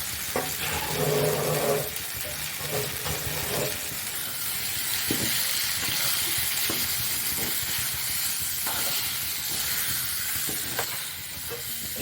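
Cumin seeds and a blended spice paste fry in a pan as the water cooks off, giving a steady, loud hiss and sizzle throughout, broken by a few scraping stirs near the start.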